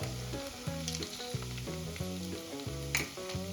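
Onion frying in a pan with ginger-garlic paste being mixed in, a steady soft sizzle with occasional stirring scrapes, under a background music bed, no speech.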